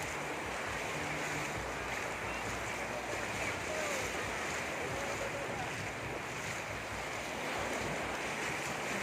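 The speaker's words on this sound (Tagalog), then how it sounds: "Grabe laki ng alon guys." Large ocean waves rolling onto a beach at Binmaley and Lingayen, a steady continuous surf roar with wind noise on the microphone, loud and close throughout, with no talking.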